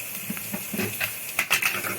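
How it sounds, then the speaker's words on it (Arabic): Onion sizzling as it sautés in a pan at home, a steady hiss with faint crackles and light clinks, fairly close. "وادي البصله تتشوح"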